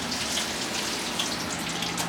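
Water from a tap runs steadily over scallops being rinsed, a soft continuous splashing wash, close and even throughout with no talk.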